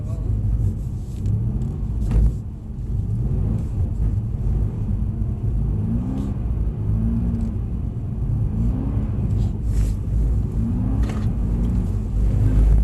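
Mercedes-Benz car on a track revs repeatedly in rising and falling sweeps over a continuous low engine rumble, with brief talk in between.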